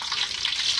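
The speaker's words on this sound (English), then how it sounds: "You fried the bat?" Bat meat frying in a pan in a home kitchen in Vietnam, a bright, continuous crackling sizzle, close and loud throughout with no voices.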